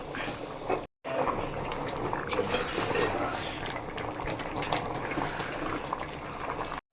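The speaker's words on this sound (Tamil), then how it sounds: "சாப்பாடு நல்லா கொதிச்சு வருது." Rice for paneer biryani boils steadily in a pot, a continuous close bubbling and rolling simmer that runs alone almost the whole time, broken only by a brief cut near the start and the end.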